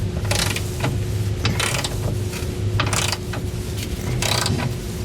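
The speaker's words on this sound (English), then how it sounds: "Now I just want to grab a 24mm socket. We'll start tightening these down." A ratchet wrench with a 24mm socket tightens bolts on a B&W Companion fifth wheel trailer hitch in a 2014 Ram 2500, giving bursts of rapid clicking in repeated strokes over a steady low hum, close by.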